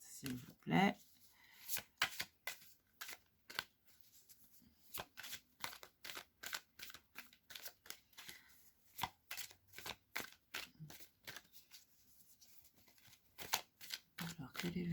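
Tarot cards are riffled and shuffled in a long series of sharp, rapid flicks and soft slaps, repeating steadily throughout at moderate loudness, with a voice speaking briefly at the start.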